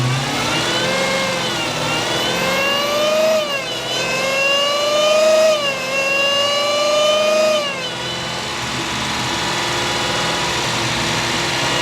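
A Dodge Challenger Hellcat Redeye on stock boost roars through a dyno pull alone, its loud, sustained engine note climbing steadily in pitch, dipping briefly at two gear shifts, then climbing again before easing off.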